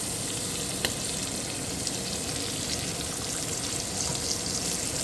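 Shrimp fry in butter and oil in a pan with a dense, loud, continuous sizzle and crackle, close up, with one faint clink partway through; no talking.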